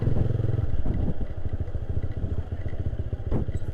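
A Suzuki Satria FU motorcycle engine, ridden along a riverside route, revs and accelerates loudly up close with a steady buzzing drone, its pitch rising at the start and again near the end.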